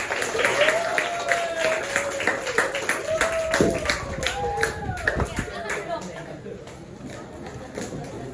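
Rhythmic hand clapping in a classroom lesson, several quick claps in a loose beat, with a teacher's and students' voices talking over them.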